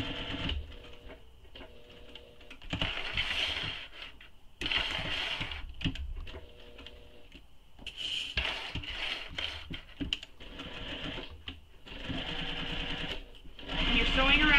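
A sewing machine sews a clutch seam in repeated short runs, starting and stopping with quick reverse back-stitching, each burst lasting one to two seconds with small gaps between.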